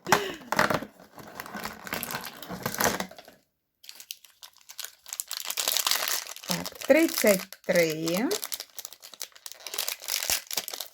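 Plastic wrapping crinkles and rustles as a packet is fumbled open, mixed with someone talking and laughing nearby.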